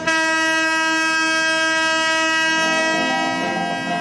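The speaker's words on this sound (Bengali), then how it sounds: "টয় ট্রেনে ফের শুরু হলো জঙ্গল সাফারি।" The Darjeeling Himalayan Railway toy train runs through tea gardens and forest between Siliguri Junction and Gayabari, sounding a loud, sustained, near horn blast for about three seconds before it fades into the rolling rumble of the carriages.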